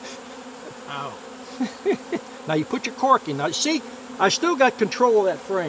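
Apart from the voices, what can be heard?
honeybees buzzing at an open hive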